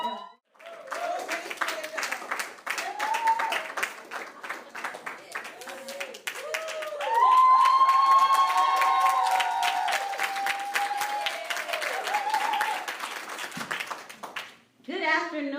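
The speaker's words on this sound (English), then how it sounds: "You guys stand to your feet and give her a round of applause" A standing audience applauds and cheers a woman at an inspirational event, a broad wash of clapping with a raised cheer or whoop in the middle, and voices and crowd noise running through the ovation.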